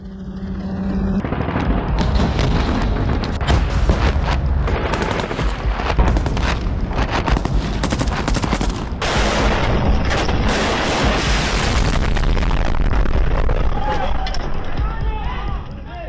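Bombardment in Pokrovsk: heavy gunfire and explosions roar continuously for the whole stretch, with dense machine-gun bursts and booming artillery layered loud and close, intensifying in the second half.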